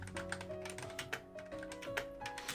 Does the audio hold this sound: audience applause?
no